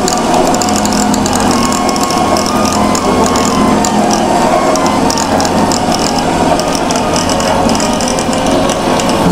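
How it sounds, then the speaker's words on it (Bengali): A hand-cranked manual cream separator machine spins milk to pull off the cream, giving a loud, steady mechanical whirr with a rapid ratcheting, gear-like clatter running continuously and close by. "এই যে আমাদের ক্রিম সেপারেটর মেশিন"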